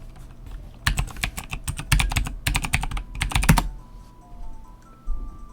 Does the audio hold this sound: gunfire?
no